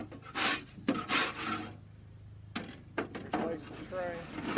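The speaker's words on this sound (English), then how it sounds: "run my scraper" A metal scraper rasps against the floor of a purple martin nest box after straw nesting is cleaned out, giving several short, close scraping strokes in bursts with a pause in between.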